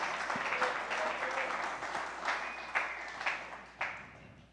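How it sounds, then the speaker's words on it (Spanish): A church congregation applauds together in a dense, steady wash of clapping with a few sharper individual claps standing out, the ovation gradually thinning toward the end. "Denle un fuerte aplauso al Señor"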